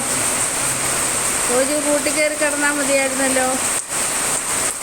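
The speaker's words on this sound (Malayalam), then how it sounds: "ഭയങ്കര മഴ വരുന്നുണ്ടോ?" Heavy rain pours down in a dense, steady roar that fills the whole stretch, while a voice speaks briefly over it in the middle.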